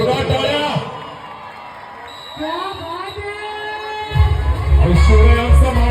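A festival crowd at a Dahi Handi human pyramid event cheers and shouts, starting with scattered whoops, then building to a loud roar of cheering toward the end, with a commentator's voice heard over it.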